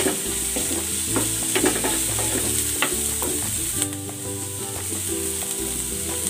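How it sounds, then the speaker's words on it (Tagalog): Garlic and onion sauté in a pan for a pork dish, a steady, close sizzle with scattered stirring clicks, over a low continuous hum and no talk. "Gigisa na ako ng bawang. Lalagay na natin tong sibuyas."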